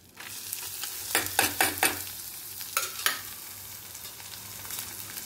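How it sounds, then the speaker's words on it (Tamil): Onions sautéing in a pan for a quick side dish, a soft constant sizzle broken by a few bursts of scraping stirs, then settling back to a quiet hiss with no talking. "வெங்காயத்தை போடுங்க. வெங்காயம் கொஞ்சம் நல்லா வதங்கட்டும்."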